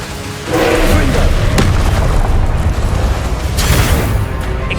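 Confringo blasting curse exploding during Hogwarts Legacy combat on PS5, a loud booming impact that jumps in early, then sustained rumbling blasts with a second swell near the end.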